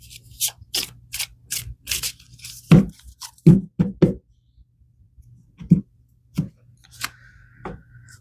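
Tarot cards being shuffled by hand in an awkward overhand style, giving a run of quick crisp riffling flicks followed by several separate louder taps and knocks, close and dry with no talking.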